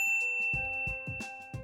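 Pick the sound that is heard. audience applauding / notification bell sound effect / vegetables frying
notification bell sound effect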